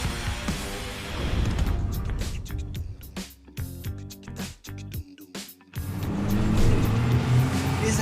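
A 1966 Ferrari 275 GTB on a test drive, its engine droning steadily from inside the car, dipping and fading through the middle stretch before swelling back to a fuller, louder roar.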